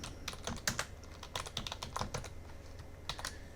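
Fingers type a search phrase on a computer keyboard to search a library account. The keystrokes come in a quick, close, uneven patter with brief pauses between groups.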